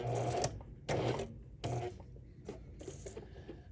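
A sewing machine stitches a whimsical houses quilt block slowly in three short bursts separated by pauses, with quieter handling and clicks between them.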